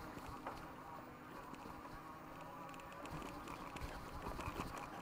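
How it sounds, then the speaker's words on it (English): On a trail climb, the electric motor of a Mukkpet Suburban fat tire e-bike gives a faint, buzzing whine under rustling wind and rolling tyre noise, continuous throughout. "I do hear the motor"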